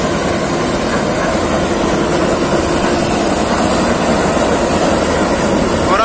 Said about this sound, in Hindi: और आप देख सकते हैं ये गन्ना कटाई मशीन चल रही है।